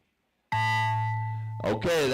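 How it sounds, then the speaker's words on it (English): Final master buzzer at an RC car race sounds as a loud, steady electronic tone held for about a second, then cut off as a voice begins talking over the track noise. "that is the final master buzzer going there"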